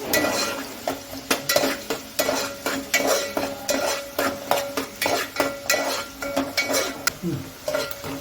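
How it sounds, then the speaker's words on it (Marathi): Chopped onion fries in oil in a pan while a utensil scrapes and stirs in a steady rhythm of sharp metallic strokes over a soft sizzle, close and fairly loud. "आता हे चांगलं कांदा जरा आपला गोल्डन होईपर्यंत परतायचं आहे ऑइलमध्ये चांगलं"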